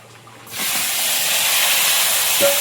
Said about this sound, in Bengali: গোটা জিরে, তেজপাতা, গোটা গরম মশলা সব দিয়ে তেলের মধ্যে একটু ভেজে এবার কাঁকড়াটার মধ্যে দেবো।